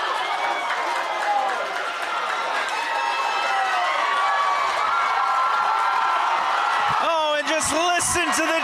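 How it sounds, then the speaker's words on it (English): A high school boys soccer crowd at a 6A semifinal cheers loudly and steadily after a curled free-kick goal. A commentator's voice enters near the end over the noise. "Listen to the cheer from the Cavemen faithful."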